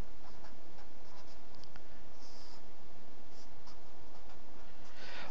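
Pencil scratching across paper at close range in short, uneven strokes and pauses, a continuous dry scribbling with no talk over it.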